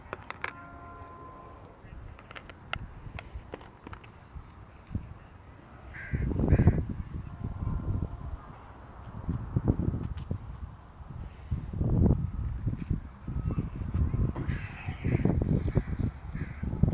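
Outdoors near a T-ball practice, a crow gives several loud caws in irregular bursts over faint wind and rustling, while a person talks at times.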